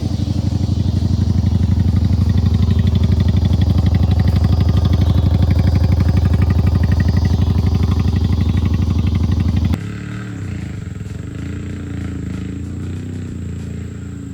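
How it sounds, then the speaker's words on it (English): A Mazda RX-7 GSL-SE rotary engine runs with a loud, close, buzzy drone that holds steady for several seconds, then drops abruptly to a quieter, rougher idle. "That's what all the rotors sound like."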